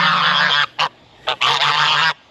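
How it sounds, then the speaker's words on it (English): Farm geese on a permaculture property in Australia honk loudly and close by: a long harsh call, two brief honks, then another sustained blaring call, with no talking over them. "Our geese, our little protectors."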